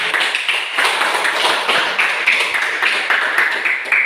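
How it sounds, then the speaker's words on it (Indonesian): A classroom of Indonesian high school students in a grade X economics lesson applauds together, a dense, steady patter of many hands clapping for about four seconds with no talk over it. "Sekali lagi mari kita tepuk tangan."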